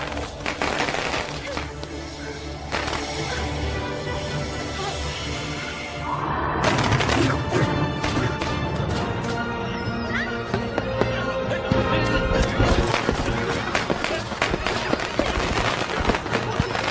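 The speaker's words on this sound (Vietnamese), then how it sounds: "Mẹ ơi, nó sợ pháo." Firecrackers set off in an animated film about a little door god, crackling in rapid loud bursts that build after a few seconds, mixed with a horse-like creature's cry, music and voices.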